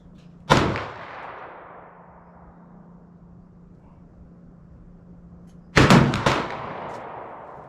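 A 20 gauge shotgun fires copper sabot slugs outdoors, one loud close blast with a long fading echo, then after a quiet gap a second blast with rapid follow-up reports and rolling reverberation.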